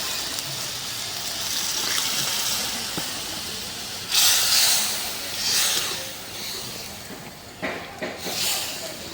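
Water poured into a pan of sizzling spice paste for a Bengali pabda fish curry with ground peanut, giving a steady hiss and steam with bursts of gushing sizzle as the liquid hits the hot pan.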